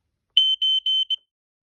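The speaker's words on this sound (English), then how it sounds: "This is the EI161 smoke alarm." EI161 battery-sealed smoke alarm sounding a close, loud high-pitched beep pattern, four short tones in quick succession, then silence.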